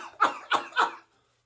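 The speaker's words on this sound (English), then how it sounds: "I just have a slight cough." Three quick coughs in a row from a person with a slight cough and a frog in the throat, close and fairly loud, then silence.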